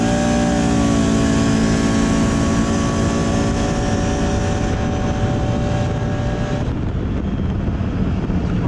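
A 2019 Can-Am Outlander XMR 1000 ATV accelerates hard from a standstill up to 45 mph on a road, its engine note loud and close and climbing steadily in a continuous roar with no talk over it.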